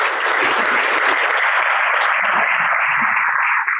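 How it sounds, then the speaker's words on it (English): Applause from an audience at a lunch meeting rings out as a dense, steady wash of clapping that runs for several seconds and then tapers off near the end. "Please, a round of applause."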